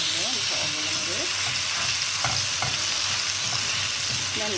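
Burger patties fry in a pan, a steady dense sizzle with soft scraping and occasional tapping as they are turned, alone and close throughout.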